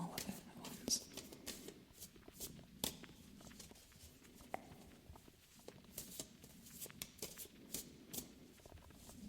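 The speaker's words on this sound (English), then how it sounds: "shuffling quietly on camera." Soft, steady shuffling of tarot cards with light rustling and tapping, quiet and close, continuing throughout.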